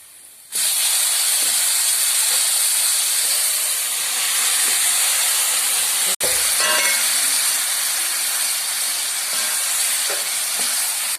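Pieces of elephant foot yam drop into hot oil with chillies, setting off a loud sudden hissing sizzle that holds steady and close, briefly broken by a clatter midway, with no talk.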